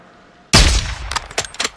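Gunfire in Call of Duty: Modern Warfare 2 (2022): a sudden loud shot bursts in after near-silence, followed by a quick string of sharper, irregular reports that fade somewhat toward the end.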